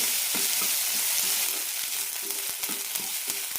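Onion fries until golden for a veg chapathi roll, giving a continuous crackling sizzle broken by repeated rhythmic taps and scrapes of a spoon stirring in the pan.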